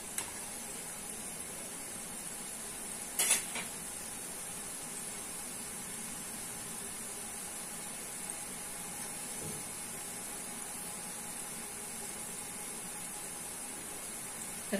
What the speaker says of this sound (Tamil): எண்ணெய் கொதிக்கிறது இந்த ஃபர்ஸ்ட் போட்ட முறுக்குக்கு கொஞ்சம் அடங்க ஆரம்பிச்சிருச்சு